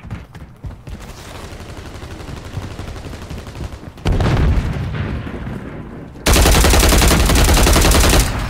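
Continuous dense gunfire and bursts of automatic weapons in a team deathmatch video game, a steady chattering barrage that grows louder and harsher in two abrupt steps toward the end.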